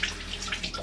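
Water splashes lightly at a bathroom sink as someone wets one side of their face, a few soft patting splashes over a faint running tap, quiet and close.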